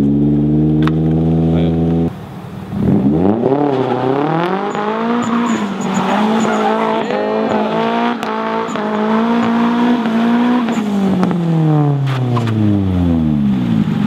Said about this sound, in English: Someone wasn't scared to burn rubber.